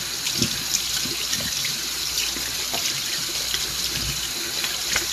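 Lukewarm tap water runs steadily into a sink for rinsing the face, making a continuous, close splashing rush with small irregular spatters and no voices.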